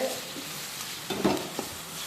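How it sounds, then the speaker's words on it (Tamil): Onions, partly softened, sauté with a pinch of salt in a pan for a prawn thokku, giving a soft, steady sizzle with a few brief stirring scrapes near the middle and no talking. "வெங்காயம் பாதி வதங்கிருக்கு"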